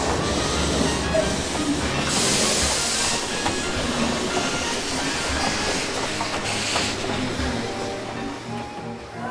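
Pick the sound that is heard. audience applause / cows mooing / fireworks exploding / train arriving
train arriving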